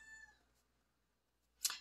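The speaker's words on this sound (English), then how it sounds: "I had to let the cat out because her meowing was just not going to stop" A cat meowing indoors, one faint drawn-out meow at the start followed by a quiet pause, then a brief sharp noise at the end.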